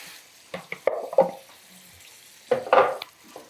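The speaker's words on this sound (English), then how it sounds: "just gonna stir these tomatoes in" Tomatoes being stirred into a simmering sausage sauce in a pan, giving soft wet scraping and squelching strokes in a few bursts, with quiet gaps between them.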